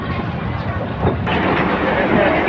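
Commuter train pulling into Narayanganj railway station, a steady rumbling roar of wheels and carriages that swells louder partway through, heard from on board with voices in the background.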